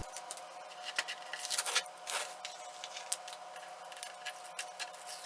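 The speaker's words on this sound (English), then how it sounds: "And the all-satisfying peel" Washi tape peels slowly off a watercolor bookmark in a close, crisp tearing rasp that rises and falls, with small sticky crackles and ticks, and no talking.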